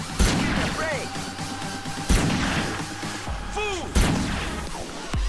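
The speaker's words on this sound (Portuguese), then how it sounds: "Vamos dar uns tiros aqui," Gunfire in GTA San Andreas: three loud, spaced shots each crack sharply and then trail off in a ringing, metallic decay, with a brief chirping effect after the first and second.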